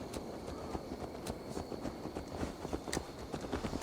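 Horse hooves clip-clop in the video game Assassin's Creed Valhalla, a quiet, steady patter of hoof strikes at a walking pace that continues throughout.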